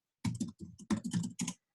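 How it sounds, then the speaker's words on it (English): Close, quiet typing on a computer keyboard while signing in, a quick run of about eight key clicks in short clustered bursts with near-silence before and after. "I'll sign in real quick just so I can show you guys if I can type correctly."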